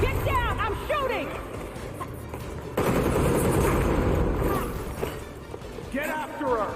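Bursts of rapid gunfire from the Gotham Knights video game ring out, loud and close, mixed with shouting voices and game effects, with a heavier sustained volley partway through.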